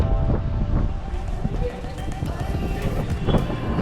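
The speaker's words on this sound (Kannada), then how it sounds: "ಗಾಳಿನೂ ಸಖತ್ ಬೀಸ್ತಿದೆ ಗುರು" Strong wind buffets the microphone at a cliff-top beach at Cabo de Rama in South Goa, producing a loud, continuous rushing roar with gusty swells throughout.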